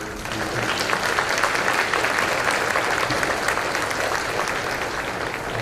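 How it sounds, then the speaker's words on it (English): Sustained audience applause at an early childhood summit, honoring school foundation members; dense, steady clapping from a large crowd holds evenly for several seconds. "ask you to give them a round of applause."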